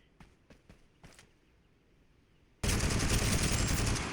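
A rifle in a video game fires a few quiet, spaced shots, then a sudden loud burst of rapid continuous fire that fills the rest of the clip.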